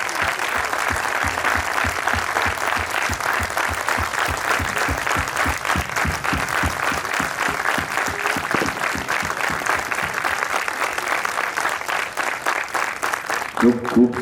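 A gathered assembly at a Jain ceremony applauds with raised hands and no music: sustained, even clapping from many people that fills the room for a long stretch and then stops abruptly.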